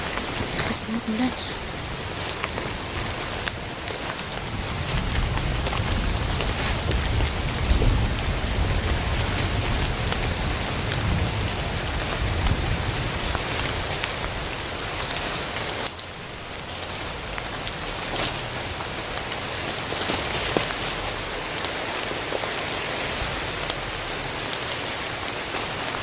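Heavy rain pours steadily throughout, a dense hiss of drops on surfaces, with a faint distant rumble.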